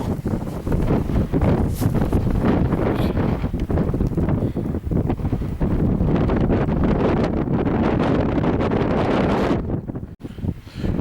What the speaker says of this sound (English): on the back, it's, well, it's blowing in a gale.